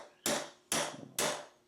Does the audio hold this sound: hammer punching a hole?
yes